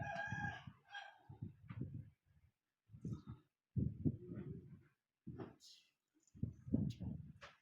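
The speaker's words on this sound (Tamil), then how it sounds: "சேவல் கூவியாச்சு" A rooster crows at a Karuppasamy temple in Puliyarai, Tenkasi, a fairly clear call at the start followed by people talking in short bursts, with a faint later cry.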